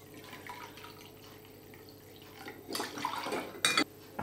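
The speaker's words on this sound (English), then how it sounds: "add the water to the milk" Water poured into milk in a mixing bowl for naan dough, a soft splashing pour building in the last second and a half, with faint clinks of kitchen utensils and no talk.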